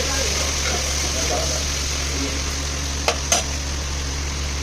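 Onions, green chillies and mint frying in a pan while being stirred for mutton curry, a steady sizzle under a constant background hum with a couple of brief scraping clicks near the end.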